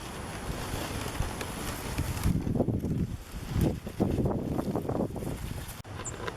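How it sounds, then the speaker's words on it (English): Wind blowing outdoors while a palm frond swing shade is being built, a steady broadband rush that swells and gusts in the middle and holds up throughout, with no clear talk. "the wind has already been picking up quite a bit"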